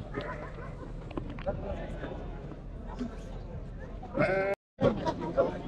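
Lambs bleat at a livestock market, several short cries rising over a murmuring crowd, with people talking nearby and a brief louder burst near the end.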